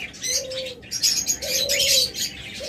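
Australian diamond doves coo in three long, steady tones, each about half a second, over a busy background of twittering small birds that sounds like a crowded aviary.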